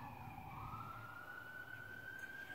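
A siren wails faintly in the distance, its tone sliding and rising steadily, alone with no one talking.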